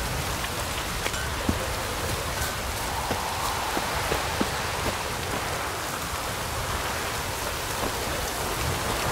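Rain falling in The Witcher 3, a steady hiss of downpour spattering on surfaces with occasional sharper drops, continuous and fairly loud with no one speaking.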